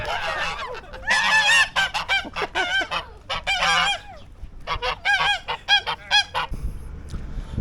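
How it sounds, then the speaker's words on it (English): Geese honk loudly and repeatedly at close range in bursts of harsh, overlapping calls, then fall quiet at the end, heard outdoors in the Atherton Tablelands. "Bloody geese."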